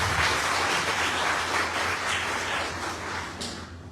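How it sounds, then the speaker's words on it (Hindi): A broad, steady wash of clapping from an audience gathered at a community meeting about debt relief, sustained for several seconds and gradually tapering toward the end. "एक ताली आप स्वयं के लिए बजाएंगे।"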